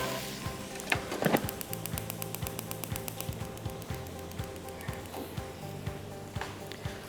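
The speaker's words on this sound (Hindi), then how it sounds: "अब इसमें सॉस बनाने के लिए क्रीम डालेंगे हम" Cream poured into a pan of sizzling chicken with tomato and capsicum, a steady close frying sizzle with scattered clicks and scrapes of utensils throughout.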